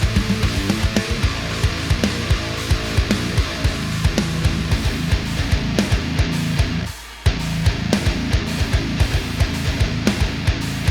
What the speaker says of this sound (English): Today I'm going to show you how to do a quick mix on guitars and it sounds like this.